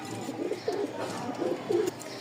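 High-flying Giribaz pigeons coo softly inside a cage, several low rolling coos repeating at a relaxed pace, close by over faint background noise.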